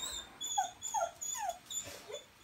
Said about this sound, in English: Stop was barking. Stop barking.